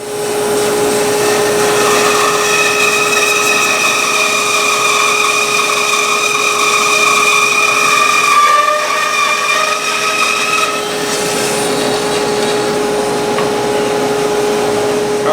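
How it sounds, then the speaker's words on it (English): A power saw cuts guitar neck blanks from wood, a loud sustained whining drone with a steady tonal hum, shifting pitch under load partway through and continuing to the end. "we'll go ahead and cut those neck blanks out"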